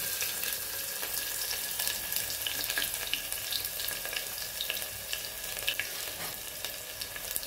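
Chopped onion and red chilli pieces frying in oil while being stirred, a steady loud sizzle with a continuous crackling hiss throughout and no talking.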